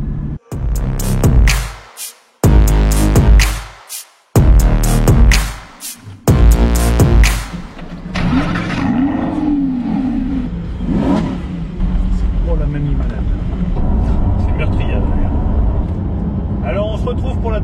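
A Lamborghini Huracan V10 sends out a series of loud, sharp revs in short bursts separated by brief silences, then settles into a lower, continuous engine drone with a voice talking over it.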